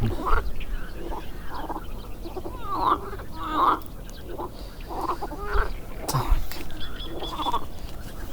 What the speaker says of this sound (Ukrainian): жаби тут чуться